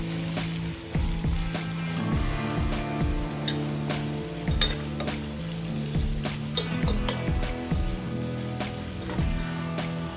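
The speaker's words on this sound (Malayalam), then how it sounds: "കട്ട് ചെയ്ത് വെച്ചിരിക്കുന്ന സവാളയും പച്ചമുളകും ചേർത്ത് കൊടുത്ത് നന്നായിട്ടൊന്ന് വഴറ്റിയെടുക്കാം" Onions and green chillies sautéing in oil and ghee in a pan, a steady close sizzle with frequent clinks and scrapes of a spoon stirring against the pan.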